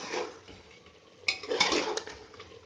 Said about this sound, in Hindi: अब मैं इसमें सारे मसाले एक साथ डाल देती हूँ और मिक्स कर लेते हैं इसको।